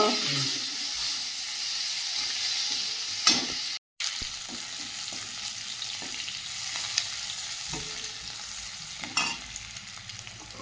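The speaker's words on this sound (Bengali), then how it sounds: "পেঁয়াজটা ভাজা ভাজা হয়ে গেছে" Onions fry in a pan with a loud, steady hiss and sizzle that goes on throughout, with occasional stirring scrapes and one very brief dropout partway through. No one speaks.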